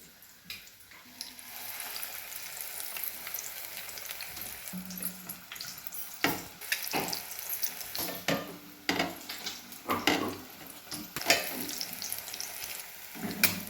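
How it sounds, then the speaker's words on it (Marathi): Egg bhaji, batter-coated eggs, dropped into hot oil and frying with a bright crackling sizzle, joined by several sharper clatters and scrapes of a spoon against the pan toward the end, with no voices. "आणि आता तेलात सोडायचं बघा बघा तसंच दुसरं पण सोडते मी अंडी"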